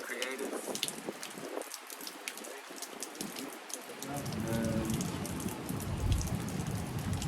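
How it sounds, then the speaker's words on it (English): Rain falls on the leaves of a tree, a dense steady patter and hiss that swells toward the end, with a few brief voices underneath. "We're caught in the rain, under a tree, but we're still getting wet."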